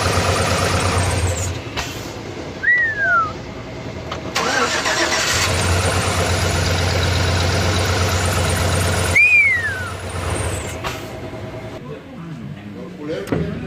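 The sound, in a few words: Chevy 5.3 engine cranking and running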